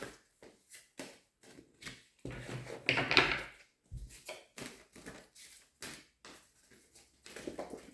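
Oracle cards shuffled by hand during a pick-a-card reading, giving a run of short, soft slaps and riffles in an irregular rhythm, with one longer rustling burst near the middle, close and fairly quiet.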